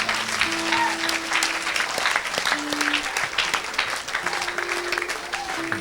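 A church congregation claps steadily together for several seconds, a dense, fairly distant wash of applause with faint voices mixed in.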